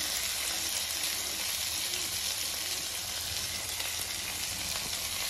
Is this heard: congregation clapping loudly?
no